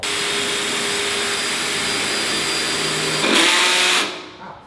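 A power drill bores a hole in a vehicle's exhaust pipe, a loud steady whine that holds, rises in pitch as the bit bites, then winds down and stops.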